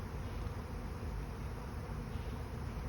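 Honeybee swarm buzzing around a hive, a steady faint drone of many bees with no voices, continuous and even throughout.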